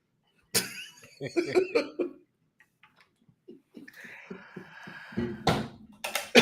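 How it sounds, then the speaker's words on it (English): A few rough coughs and throat-clearing sounds, close by, separated by quiet stretches and soft clicks. "He's been hacking and coughing"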